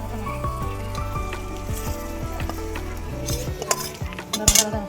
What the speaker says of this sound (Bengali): এর মধ্যে যাচ্ছে ফোড়ন